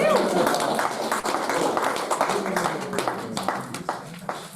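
A church congregation at an evening service claps for the Bible reader, a scattered patter of hands that builds then thins into separate claps, mixed with voices talking.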